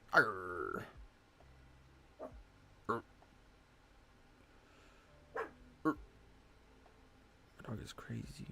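An agitated female dog barks in irregular bursts, some sharp barks and some whiny yelps, scattered across several seconds at moderate distance, with quiet pauses between.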